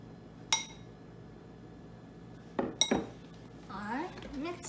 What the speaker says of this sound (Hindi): अब थोड़ा थोड़े मेरे को अपना फ्लावर अंदर डालना है और मिक्स करना है